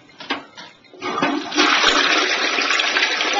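A toilet being flushed, opening with a few clicks and gurgles before the rushing water swells into a loud, steady roar up close.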